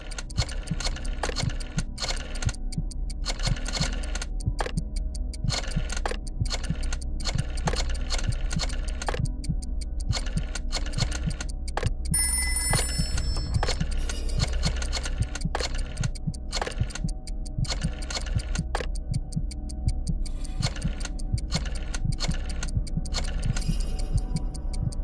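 A rotary phone dial clicks in quick irregular bursts of sharp ticks, with brief high ringing tones partway through, heard close and steady with no talking.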